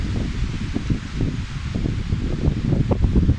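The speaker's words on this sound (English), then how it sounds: "It's very windy here today." Gusty wind sweeps through tree leaves outdoors, producing a continuous, moderately loud rustling that swells and eases in uneven waves, with no voices.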